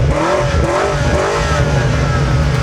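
A 727 hp BMW M5 Touring engine revs hard and loud, with a dense, continuous roar throughout and no pauses.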